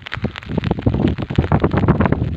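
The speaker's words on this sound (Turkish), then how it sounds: "Şiddetli bir rüzgar ve yağmur var." Heavy gusting wind roars and buffets the microphone in a village by the Euphrates River, with a dense patter of rain mixed in, loud and continuous with no talking.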